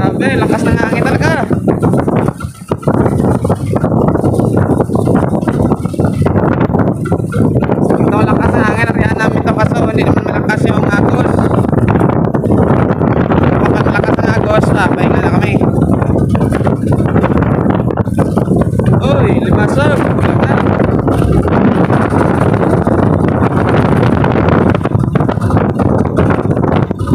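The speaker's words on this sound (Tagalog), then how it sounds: "lakas ng hangin talaga" Strong wind blowing at sea from a small fishing boat, a loud continuous roar of gusts buffeting the microphone throughout, with people talking under it.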